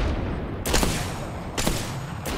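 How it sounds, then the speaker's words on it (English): Gunfire in Apex Legends battle, with bursts of sharp, loud shots cracking at close range in three quick volleys over a constant noisy background. "Shots fired and they're hitting me."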